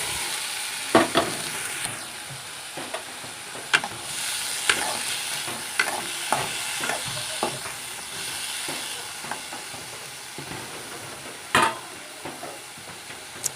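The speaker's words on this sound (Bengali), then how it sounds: "এবারে সামান্য তেল দিয়ে লাউয়ের পিসিগুলো টেলে নেব" Bottle gourd pieces fry in a little oil in a pan, giving a soft steady sizzle broken by intermittent scrapes and knocks as they are stirred, with no talking.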